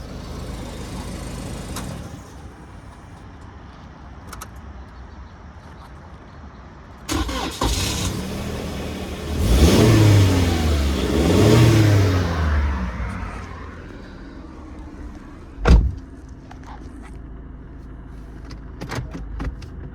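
A 2019 Toyota Corolla 2.0 with a grinding noise: an engine hum runs throughout, the car revs up and rises in pitch mid-way, then settles, with a sharp knock or clunk near the end.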